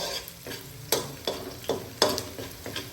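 Garlic and onion sizzle in a hot pan for Filipino-style spaghetti while being stirred, with steady frying crackle and about six sharp scrapes of the utensil at a regular pace, close and alone without talk.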